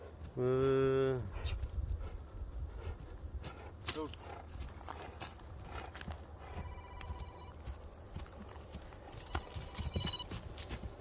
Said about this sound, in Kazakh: Ушундай тоолордо, алайдын тоолорунда тапталган ат экен да жаныбар, а?